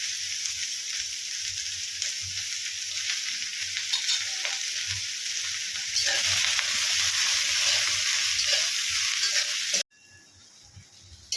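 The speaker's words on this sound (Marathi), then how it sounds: "या कढईमध्ये ना हा कांदा घालूया। त्याच्यामध्ये सुद्धा आपण तेल आणि मीठ घालणार आहे।" Onion frying with oil and salt in a kadhai, a steady close sizzle with stirring scrapes throughout, growing louder partway through before cutting to a quieter, softer sizzle near the end.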